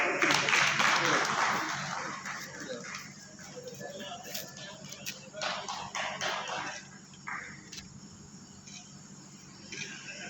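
An audience at an Ambedkarite literary conference breaks into applause, a burst of clapping at the start that thins into scattered claps, heard amid a noisy hall with background hum and faint voices.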